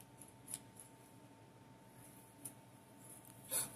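Scissors cut into the sand-filled horn of a fidget toy, giving a few faint, sparse snips and crunches against a quiet indoor background, with the loudest cut near the end.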